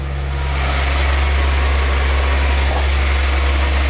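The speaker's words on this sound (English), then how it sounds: "it's starting to go off the high idle now a little bit, starting to warm up a bit" A Jaguar XJS 3.6 AJ6 straight-six idles loud and close after an oil change, a steady low rumble with a faint rise at the start and no talking.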